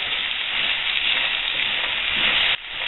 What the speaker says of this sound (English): I really want to brown these before I add any moisture to them